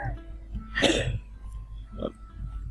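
A single sharp cough burst close by, followed by a smaller throat sound, with quiet murmuring in the background.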